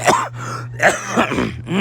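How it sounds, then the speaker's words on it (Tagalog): A person clears their throat and coughs several times in quick, rough bursts, close and fairly loud. "Pausa po ako kasi may ubo pa po ako"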